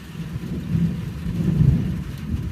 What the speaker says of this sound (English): Can you hear that thunder?